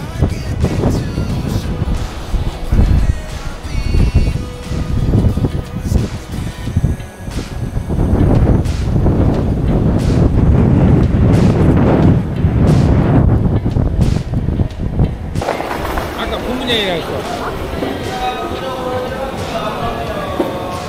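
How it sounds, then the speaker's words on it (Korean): Strong wind on Jeju Island buffets the microphone with loud, gusty rumbling bursts, easing toward the end as someone speaks briefly. "역시 제주는 바람."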